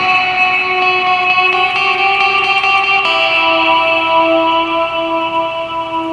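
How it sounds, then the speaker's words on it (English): Sustained guitar chords through an atmospheric reverb pedal with a long, shimmering, icy reverb wash, bright and loud, notes blending into a continuous atmospheric tail with no talking. "So it's got kind of a nice, like, icy sound on that setting."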